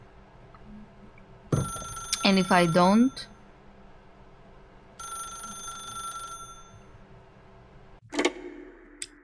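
A telephone in The Stanley Parable video game rings in a short burst of bright bell-like tones, followed later by a sharp click, with a voice speaking briefly over a steady background hum.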